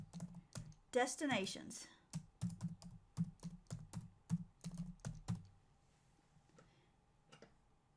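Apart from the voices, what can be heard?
typing on a computer keyboard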